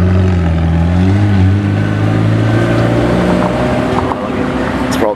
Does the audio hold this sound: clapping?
no